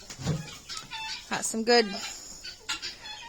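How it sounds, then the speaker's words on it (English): Chickens and turkeys roaming loose on a poultry farm, with several short clucks and calls at close range, while someone talks over them. "Some nice turkeys and chickens, and they're just everywhere."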